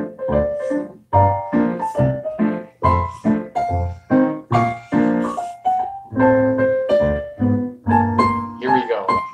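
Piano plays a turnaround as a lively run of struck chords and single notes. Each attack is sharp and decays quickly, in a busy, uneven jazz rhythm with no talking.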